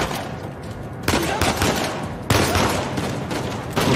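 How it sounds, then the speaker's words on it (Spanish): Gunfire from a weapon in the video game Uncharted 4 hits in loud bursts, sharp rattling volleys kicking in around the middle and again later over a noisy battle backdrop. "¿Por qué dispara así el arma, tío?"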